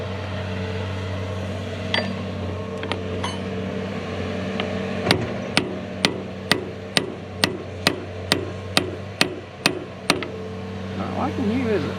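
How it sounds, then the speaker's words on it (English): A hammer strikes a post at a farm pond dam rebuild, about a dozen sharp, evenly spaced metallic blows ringing over a steady engine hum, with a few lighter taps before. "Might get another hammer and hold on there where we can hit it."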